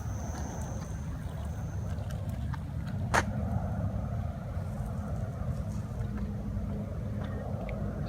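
Swagtron electric scooter ridden on a road in gear 1, giving a low steady rumble of wheels and wind noise with a faint electric whine and a single sharp click partway through.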